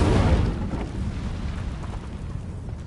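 An Incendio fire spell is cast in Hogwarts Legacy, a burst of fiery whoosh and rumble that hits loudly at the start and then fades into a lingering crackling roar.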